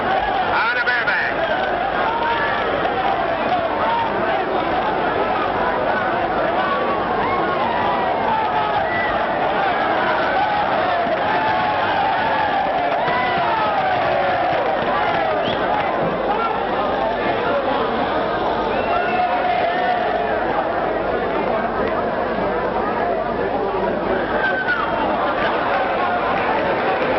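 Crowd at a rodeo bronc riding contest in muddy conditions, a steady dense murmur of chatter and cheering that holds throughout, with a voice speaking over it.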